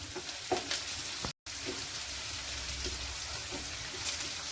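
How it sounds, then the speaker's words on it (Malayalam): Onion and finely chopped ginger sauté in a pan for a coconut tomato chutney, a steady close sizzle and frying crackle with light stirring scrapes throughout, one brief dropout midway, no voices. "ഇതിലേക്ക് ചെറുതായി അരിഞ്ഞു വെച്ചിരിക്കുന്ന ഇഞ്ചിയും കൂടെ ചേർത്ത് ഒന്നും കൂടെ ഒന്ന് വഴറ്റിയെടുക്കണം"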